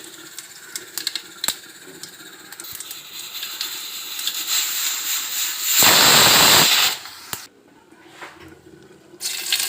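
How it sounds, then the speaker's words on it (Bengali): Dal tempered with cumin and dried red chili in hot oil, a loud sudden sizzling hiss that swells for about a second before cutting off, set among quieter kitchen clatter and background noise. "এখানে ডালটা ফোড়ন দেবো জিরে আর শুকনো লঙ্কা দিয়ে দিতাম"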